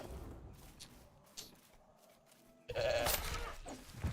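A single loud goat bleat bursts out midway in the video game Pax Dei, wavering and nasal, over a quiet background of game ambience and faint clicks.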